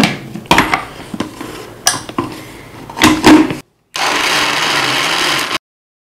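A kitchen blender whirs through falsa berries with black salt and about a cup of water for sharbat: a steady, loud grinding whir for roughly two seconds, then cutting off abruptly, preceded by clatter and handling knocks.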